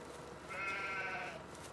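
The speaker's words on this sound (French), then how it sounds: "c'est un mouton qui traverse au même moment" A sheep in a farming video game bleats once, a short wavering cry that is faint and sits over a low, steady game background.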